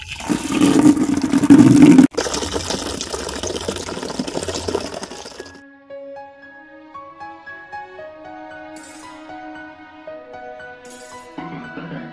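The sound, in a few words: water running from a tap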